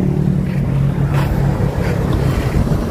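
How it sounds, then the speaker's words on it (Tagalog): An old motorboat engine runs with a continuous low droning hum, steady and loud, mixed with wind buffeting the microphone and open-water noise. "Pero umaandar pa rin itong motor mo, no?"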